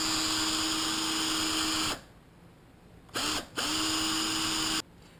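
Power drill boring through an AR-15 part, a steady loud motor whine for two seconds, then stopping, a brief restart, a short pause, and another steady run of about a second and a half before cutting off.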